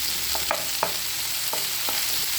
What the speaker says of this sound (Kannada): ಫ್ರೈ ಆಗಲಿ